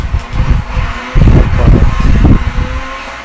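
Ford rally car in Dirt 3 on the Port Hercule Monaco circuit, engine surging in rough bursts with a loud jump midway as it slides, gritty and close throughout.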